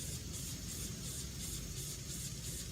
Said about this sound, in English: I can rinse it more to see if it gets better